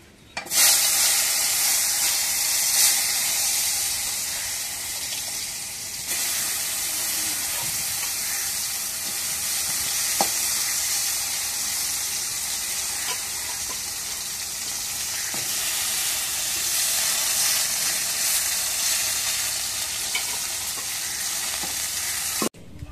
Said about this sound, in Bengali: এখন তেলটা গরম হয়ে গেছে, এখন পটলগুলো দিয়ে দিই।